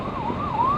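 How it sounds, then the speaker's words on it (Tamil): Ambulance siren wailing on a rainy road during a monsoon motorcycle ride in Kerala, a single steady rising and falling tone that is loud and close, heard alone. "அதோட 2வது ஆம்புலன்ஸ் பார்க்குறேன்."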